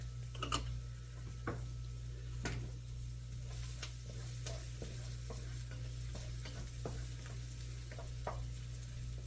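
Garlic frying in oil for a chipotle pork stew, a faint, quiet sizzle over a low steady hum, with occasional light taps and clicks of a utensil.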